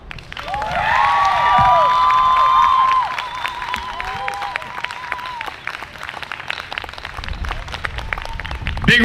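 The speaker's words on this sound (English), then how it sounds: "round of applause once again" A crowd at a solidarity event erupts in loud applause with whooping, cheering voices and shouts early on, then settles into steady, dense clapping that carries on to the end.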